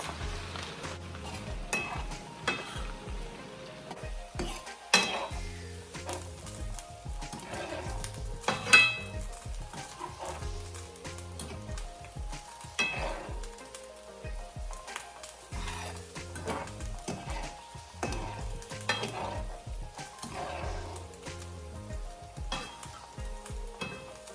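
Aloe vera cooks in hot oil in a pan, sizzling and crackling for a long stretch while a spoon repeatedly stirs and scrapes against the metal, close up and with no talking.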